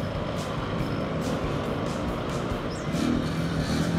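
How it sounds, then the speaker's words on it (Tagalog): Evening traffic of cars and trucks on Avenida near Carriedo in Quiapo, Manila, around 8 pm: a steady, dense roar of passing vehicles close by, with no voices. "Marami pang sasakyan."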